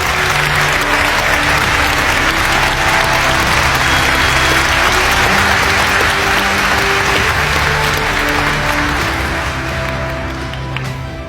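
An audience gives sustained applause as a speaker is welcomed to the podium, a dense, even roar of many hands clapping that holds steady and fades slightly toward the end.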